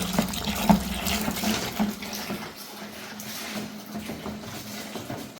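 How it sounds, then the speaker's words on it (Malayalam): Water from a tap runs steadily into a container holding a homemade lavender floor cleaner mixture, a continuous close splashing flow with a few louder splashes early on and no talk. "ഇനി നമുക്ക് ഇതിലേക്ക് 19 ലിറ്റർ വെള്ളം ആഡ് ചെയ്ത് കൊടുക്കാം കേട്ടോ"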